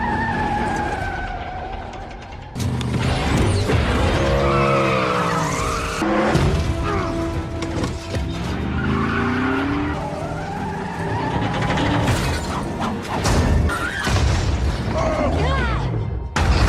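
Cars crashing and overturning in an action film scene, with loud tire skids, squealing, heavy metallic crashes and booms layered under dramatic music and effects, intense throughout.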